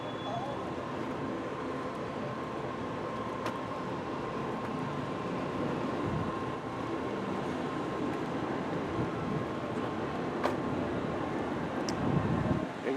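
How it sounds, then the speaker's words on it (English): A train standing in a station at a theme park ride, heard as a steady broad rumble and hiss with a faint constant tone and occasional brief clanks, fairly loud and continuous throughout. "Definitely a train in the station."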